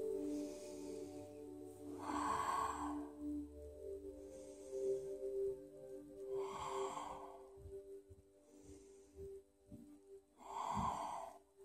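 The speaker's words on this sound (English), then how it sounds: "Deep breaths in, complete breaths out." Deep, slow breathing during yoga practice, close and audible, with three long airy exhalations spaced several seconds apart between quieter inhalations.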